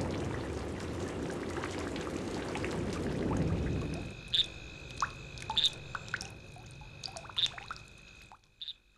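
Rain shower falling in a village, first as a dense steady hiss of drops, then thinning into scattered distinct drips and plops close by.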